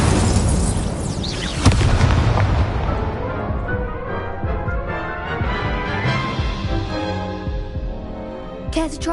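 A fire spell cast in the video game Hogwarts Legacy: a loud, dense burst opens into a sustained roaring, crackling blaze that fills the whole clip, with a sharp impact near the start and another near the end.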